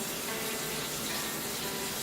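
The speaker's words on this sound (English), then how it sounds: "So right now what I'm doing is just rinsing the tomatoes a bit." Tap water runs steadily as tomatoes are rinsed beneath it, a constant, soft hissing splash with no talk.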